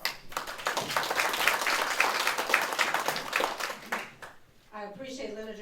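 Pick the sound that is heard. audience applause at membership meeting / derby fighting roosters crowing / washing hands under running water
audience applause at membership meeting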